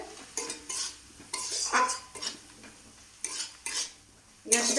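A spoon scraping and stirring potol with Kashmiri chili powder in a pan, in intermittent close strokes with faint sizzling beneath, clinking against the metal several times.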